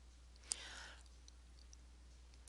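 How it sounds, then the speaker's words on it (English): A single soft mouse click lands on a Save button in a quiet room, followed by a faint rustle and another small click at the end, very low in level. "And I'm going to click Save,"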